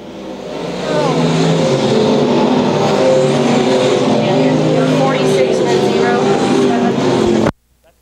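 Stock cars racing to the finish line on a track during a nationals main event at Lakeside, a loud close roar of engines sustained for several seconds before cutting off abruptly, with an announcer's voice over it.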